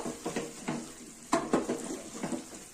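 Marinated chicken stirred in a pan for a Tamil chicken kurma, with scattered spoon scrapes and clinks against the metal over a soft sizzle, close and fairly quiet, in irregular bursts.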